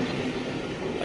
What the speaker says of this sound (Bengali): ট্রেনটা ছেড়েও দিল